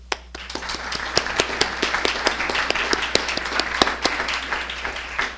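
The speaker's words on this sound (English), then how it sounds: "we'll give them one more round of applause before we move on with our agenda" Applause for a school board at a district board meeting, a dense crowd clapping steadily and evenly for several seconds, moderately loud and close with no talking over it.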